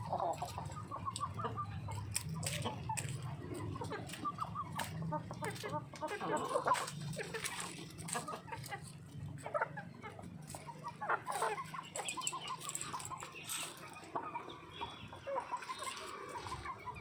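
A hen clucks repeatedly up close after laying an egg, with short bursts of cackling and other fowl sounds over a soft rustling background.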